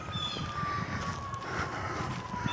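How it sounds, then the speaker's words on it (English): Emergency vehicle sirens wail at a distance in a suburban outdoor setting, a faint steady rising-and-falling tone carried over low background noise with no talking. "Man, you guys hear those sirens?"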